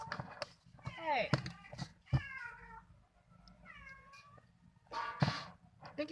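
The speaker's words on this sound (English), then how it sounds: "It's my cat." Pet cat meowing repeatedly while wanting food, close and clear indoors, with a few thuds and knocks between the calls.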